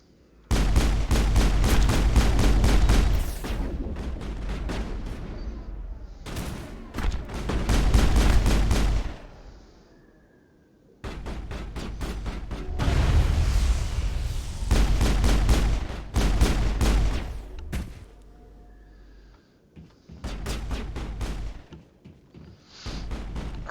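Bursts of heavy gunfire in the video game Mass Effect come in loud, dense volleys separated by short pauses, with rapid repeated shots and booming impacts.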